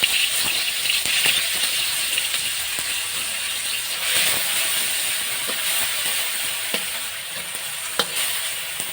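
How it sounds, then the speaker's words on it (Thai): Thai curry paste frying in hot vegetable oil in a pan: loud continuous hissing sizzle with crackle, broken by occasional clicks and taps of the utensil, no talking. "ใส่น้ำมันพืชลงไปท่านผู้ชม น้ำพริกแกงใส่ด้วย"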